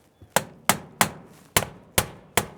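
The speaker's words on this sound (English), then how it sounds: "now let's go ahead and nail this off." A hammer drives shingle nails into metal roof trim in six sharp, evenly spaced strikes after a light tap, each blow ringing briefly and close with no talking.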